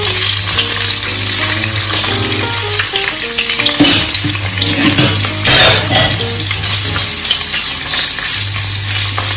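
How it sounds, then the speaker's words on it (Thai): Shrimp fry in hot oil in a pan, a loud, dense sizzle with bursts of stirring and utensil clinks, while soft steady background music plays beneath and nobody speaks. "เดี๋ยวเราทอดกุ้งก่อนนะคะ"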